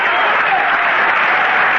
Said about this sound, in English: and there go the fans starting the rhythmic applause